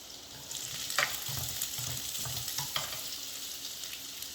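Finely chopped onions fry in a pan with a steady, soft sizzle and a few light stirring scrapes, close and fairly quiet, with no talking.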